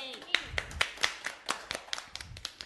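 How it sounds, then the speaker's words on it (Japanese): A small audience claps during an idol livestream, a quick run of sharp, separate hand claps, fairly faint, with voices alongside. "拍手してるんですけど"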